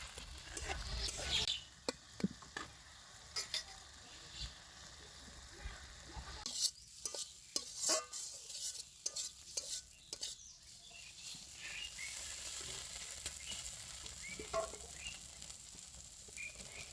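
A tomato mixture fries in oil in a wok and is stirred, with a continuous sizzle and repeated scraping and clattering from the spatula that come in bursts and then settle into a steady frying hiss.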